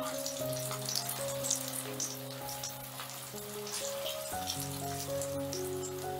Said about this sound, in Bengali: কোফতাগুলোকে ঘুরিয়ে ফিরিয়ে আমি আরেকটু লাল লাল করে ভেজে নেব